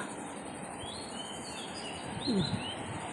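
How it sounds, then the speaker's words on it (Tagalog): Birds chirping and tweeting at a moderate distance over a steady drone of crickets in a forest near Fanling Temple, Hong Kong, with a louder call near the end. "Ang maririnig ninyo ay huni ng ibon at kuliglig."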